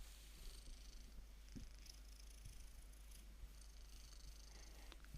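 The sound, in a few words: cat purring, from video game ChäoS;HEAd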